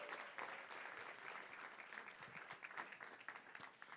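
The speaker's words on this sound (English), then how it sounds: "Can we please do one more round of applause for all of our Innovation Showcase presenters?" An audience at a culture conference showcase gives a round of applause for the innovation presenters, a continuous wash of many hands clapping at moderate distance, fairly faint and even.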